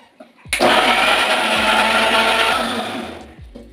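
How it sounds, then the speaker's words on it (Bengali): An electric kitchen mixer grinds chopped onion, garlic, ginger and green chili into a paste, a loud whirring roar starting abruptly and running steadily before gradually winding down. "এখানে আমি মিক্সারে পেঁয়াজ কাটা, রসুন, আদা আর কাঁচা লঙ্কা এক দুটো দিয়েছি"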